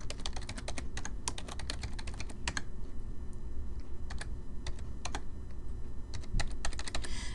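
Someone types data into an Excel spreadsheet on a computer keyboard, a close, steady run of quick key clicks with brief pauses, over a faint low hum.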